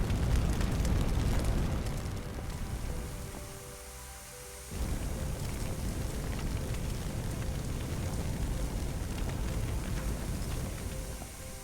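Water spraying from a firefighting hose in Firefighting Simulator, a dense rushing hiss that dips briefly in the middle before resuming strong and steady.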